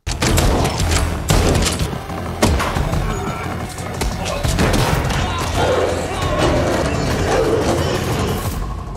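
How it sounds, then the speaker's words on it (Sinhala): Gunfire in a film, with dense bursts of shots, booms and thuds over a continuous loud action soundtrack lasting several seconds. "එතින්න හැමෝටම වෙඩි තියන්න පටන් ගන්නවා"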